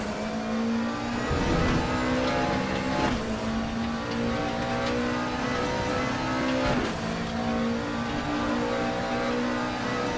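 A race car engine roars at full throttle around the Silverstone circuit, a loud sustained drone that climbs in pitch through the gears with brief shift breaks, heard close with no talk.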